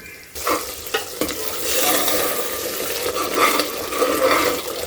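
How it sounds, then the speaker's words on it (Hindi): Mushrooms and masala being fried and stirred in a pan for a mushroom curry, a close continuous sizzle with scraping and clattering stirs throughout. "अब इसमें हम डाल दे रहे हैं और इसको हम अच्छी तरीके से भून लेंगे। मशरूम को भी मसाले को भी।"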